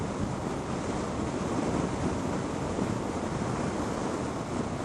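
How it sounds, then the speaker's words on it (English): Steady wind roars across the microphone, heavy and broadband like crashing surf, at a roadside during a motorcycle ride, constant and loud for the whole stretch with no voices. "Ah, the wind's getting up"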